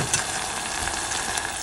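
Garlic and tamarind paste sizzle in a hot pan for rasam, a close, steady crackling fry with no talk.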